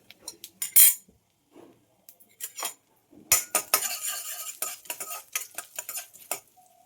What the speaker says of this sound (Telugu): మనం పోపు కలుపుకుందాం